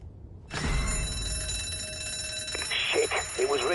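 An alarm in the video game Zombi rings out after a tripped rig, a sudden sustained shrill electronic bell that starts abruptly and keeps sounding steadily, with game voices and noises over its later part.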